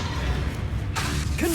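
An Expelliarmus spell is cast in Hogwarts Legacy: a low mechanical rumble is followed by a sudden bright whooshing burst and a short rising tone at the end.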